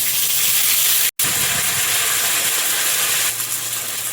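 Nigella seeds, bay leaf and ginger hitting hot oil in a wok for a pumpkin curry, a loud, steady close sizzle and hiss that runs throughout with one brief dropout.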